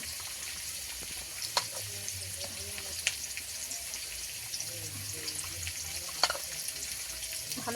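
Potatoes frying in oil with turmeric and salt in a pan, a quiet steady sizzle with occasional sharp pops and clinks of a utensil.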